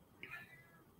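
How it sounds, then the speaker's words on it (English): A pet cat meows once, a short rising then falling call, faint and fairly distant in a quiet room, followed by a sudden sharp knock at the very end. "And if you hear my cat meowing, it's her dinner time."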